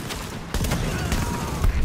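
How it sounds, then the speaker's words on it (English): Double-barrel shotgun fire in the video game Tom Clancy's The Division, heavy booming blasts amid a dense game soundscape with layered effects and rumble. "A shotgun. A double barrel shotgun."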